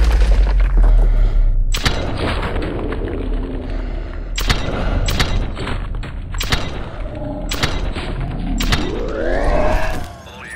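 A frame charge blasts open a sealed door in the Modern Warfare 2 campaign, with heavy booms and sharp explosive cracks repeating amid constant loud gunfire and combat noise, ending in a swelling rumble.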